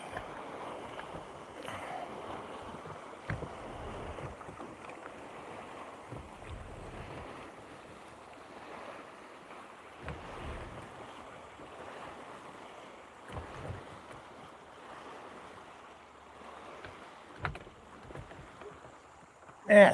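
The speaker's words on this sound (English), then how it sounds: "Vicious waves for a moment." Choppy waves from a passing wake slap against a small fishing boat on a lake, making a steady sloshing wash mixed with wind rumble and occasional hollow knocks on the hull.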